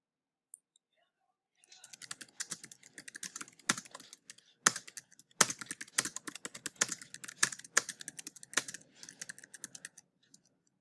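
Rapid clattering keystrokes on a computer keyboard while writing an essay in Google Docs, a dense run of close, crisp clicks with a few louder key strikes, starting after a brief pause and running steadily for most of the stretch.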